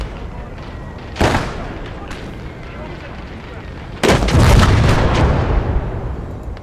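Artillery guns firing in a wartime strategy video game, two loud booming shots a few seconds apart, each with a long rumbling tail and the second heavier, over a steady battlefield background.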